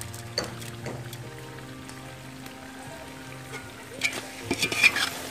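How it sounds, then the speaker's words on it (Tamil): Chicken pieces with masala are stirred in a pan for dum biryani, giving soft scraping and a faint sizzle that grows into a few louder clattering strokes near the end. "மசாலாலாம் இதில் ஊறுறதுக்காக கிளறிட்டே இருக்கும்"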